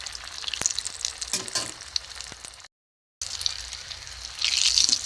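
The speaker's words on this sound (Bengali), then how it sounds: "কত সুন্দর ভাজা হয়েছে দেখুন লাল করে" Egg yolk balls frying in hot oil, turned one by one in a pan: a steady crackling sizzle with brief splashes, a short silent gap midway, then a brighter, louder burst of hissing toward the end.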